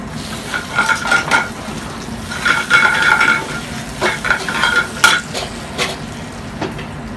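Spinach sautéing with olive oil and garlic in a pan, a steady low sizzle under repeated scraping and stirring clinks of a utensil against the pan, fairly close and loud, with no talking.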